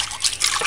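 Pig's trotters being rinsed in water with a little white vinegar, a short, close trickle and splash of liquid with light dripping, with no voices.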